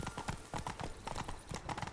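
A horse galloping in The Witcher 3 Wild Hunt, rapid rhythmic hoofbeats pounding steadily and close throughout, with no one talking.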